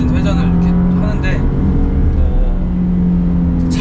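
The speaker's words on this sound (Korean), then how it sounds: "수동 변속 모드를 통해서 이렇게 패들 시프트를 통해서 지금 제가 RPM을 이렇게 올렸는데요" A Porsche Panamera 4S engine revs up under paddle-shift manual mode, a loud continuous rumble climbing in pitch while someone talks over it.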